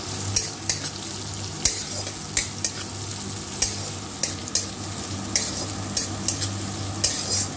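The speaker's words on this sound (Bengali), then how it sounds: "দিয়ে দেব পেঁয়াজ কুচনোটা, দিয়ে ভালো করে ভেজে নিতে হবে" Chopped onion, garlic and split green chillies frying in a pan, a steady close sizzle broken by about a dozen sharp scraping stirs of a spatula at an irregular pace, with no talking.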